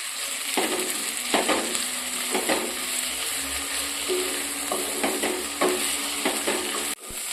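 Fenugreek leaves sauté in a pan with a steady hiss, broken by repeated scraping stirs of a spoon against the metal, before the sound cuts off abruptly near the end.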